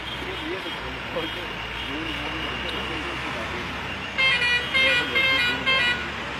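Heavy traffic jam of trucks and cars backed up on a hill road at Digdol, Ramban, after a landslide in light drizzle: a steady broad roadway rumble, with a patterned beeping or honking burst rising near the end.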